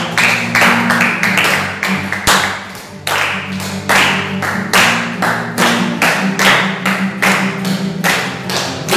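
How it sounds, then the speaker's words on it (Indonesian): Congregation clapping hands in rhythm during a Sunday church service, loud and close with irregular bursts of claps over a sustained low tone of music or organ underneath. "Mari kita berikan tepuk tangan kepada Tuhan."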